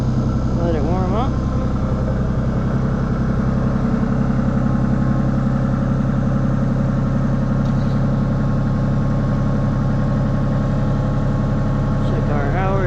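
A rented mini excavator's diesel engine idles steadily to warm up in winter, a loud, even low rumble with constant hum throughout, close and continuous, with brief voice-like sounds at the edges.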